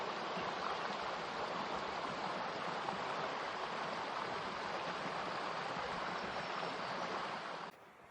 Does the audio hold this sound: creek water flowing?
yes